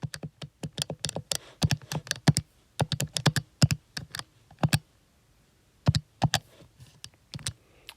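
Keys on a calculator are pressed in quick irregular bursts of crisp clicks, with short pauses between groups, close and alone without talk.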